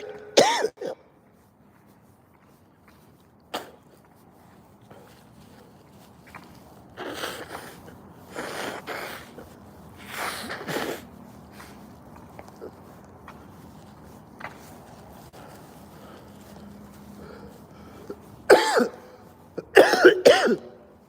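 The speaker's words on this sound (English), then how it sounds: "trying to get all my coughing out now before I go back in there." A person coughs and clears their throat repeatedly, in close, sharp bursts spread irregularly across a quiet stretch, with a cluster of heavier coughs near the end.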